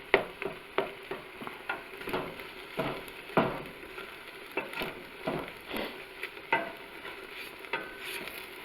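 Venison thawing in a hot pan as the meat is broken up, a quiet sizzle punctuated by repeated rhythmic scraping and stirring strokes of a utensil against the pan, with no voices.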